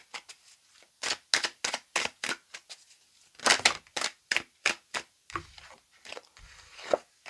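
Tarot cards shuffled and cut for a nine-card spread, heard as a run of crisp, close card snaps and riffling taps in an irregular rhythm, with no talk over them.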